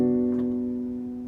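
The left hand of Satie's Gymnopédie No.1 on piano sounds as a low sustained chord that rings and slowly fades, solo and close.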